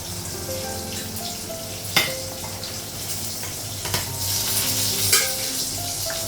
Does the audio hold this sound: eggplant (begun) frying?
yes